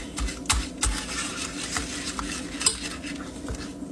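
A spoon or whisk mixing peach cobbler batter in a bowl, giving soft rhythmic scraping and tapping strokes with occasional light clinks against the bowl, quiet and close.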